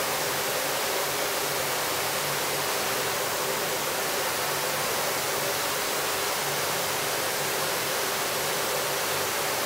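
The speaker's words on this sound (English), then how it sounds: "Let's turn on a storage sprinkler and see the impact on these open top containers." A ceiling-level storage fire sprinkler in a sprinkler lab sprays water down onto open top containers, making a loud, steady, unbroken hiss and patter that continues with no talking.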